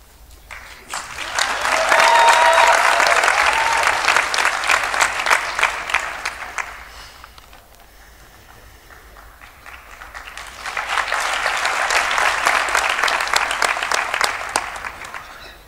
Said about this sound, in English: let us give our graduates a big hand for the hard work that's done.